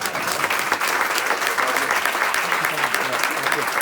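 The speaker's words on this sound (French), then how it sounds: "je pense qu'on peut lui faire un tonnerre d'applaudissements" Steady, dense applause from an audience cheering someone who has just solved a Rubik's Cube at a live magic show, loud and continuous with no break for the full length.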